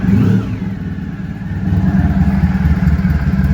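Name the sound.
Honda ST1100 motorcycle engine idling at 850 RPM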